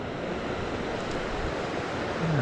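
Steady broadband rush of water spilling off rugged cliff faces beside the Goat River trail in the Canadian wilderness, continuous and fairly close, with no voices.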